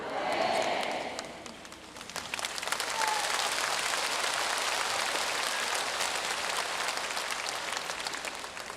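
Large audience in an indoor handball arena breaking into sustained applause, a dense roaring wash of many hands that swells within the first seconds and holds steady for the rest of the clip.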